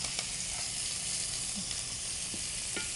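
Beetroot dice dropped into hot oil with spluttering mustard seeds and curry leaves, giving a steady close sizzle with faint pops and the odd stir, no voices.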